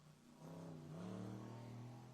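Pro-touring truck engine revving hard on a racing course, a loud, close, rising roar that climbs in pitch and holds steady for about two seconds.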